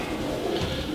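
Racing pigeon in a loft softly cooing in a low, continuous murmur over a steady background hum.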